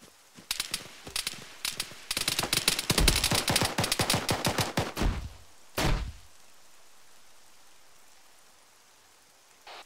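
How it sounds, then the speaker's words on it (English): A PKP machine gun fires in the military shooter Arma 3, rapid sustained bursts of loud cracking shots for several seconds, then a single later shot, before fading into a quiet low ambient rumble. "That's a PKP firing."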